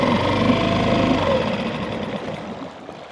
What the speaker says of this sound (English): we're gonna go ahead and shut the motor off here.